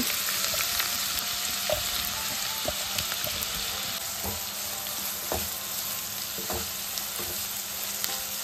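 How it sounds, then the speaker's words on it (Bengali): Chopped onions sizzle steadily in hot oil over low heat, a constant crackling hiss with occasional sharper pops and clicks throughout. "এরপর এর মধ্যে কুচি করে কাটা পেঁয়াজটা দিয়ে দেব"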